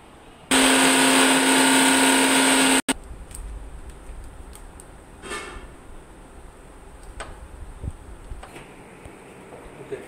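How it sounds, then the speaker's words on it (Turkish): A kitchen blender grinds garlic and ginger into a paste for a spicy beef curry. It runs loud and steady for about two seconds, then cuts out sharply, leaving quiet kitchen ambience with a few faint ticks and clicks. "Bif kavurmasının içine koymak için mikserde sarımsak ve gördüğünüz zencefilleri paste haline, sos haline getireceğiz"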